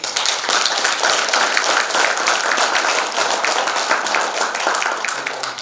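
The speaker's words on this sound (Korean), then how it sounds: "박수 한번" Sustained audience applause at a Korean memorial ceremony honouring an independence activist, a dense, even clapping from a roomful of people that holds steady throughout with no speech over it.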